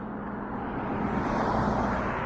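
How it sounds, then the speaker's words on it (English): Steady roar of street traffic passing nearby, with big trucks on a walk around a city block, a continuous broadband rumble that swells slightly toward the end with no voices. "Sorry about the traffic noise."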